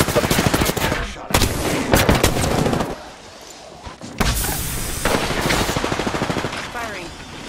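Rapid bursts of gunfire in an Apex Legends match, with a Mastiff shotgun among the weapons, loud and dense in repeated volleys broken by short gaps, with game voice lines mixed in.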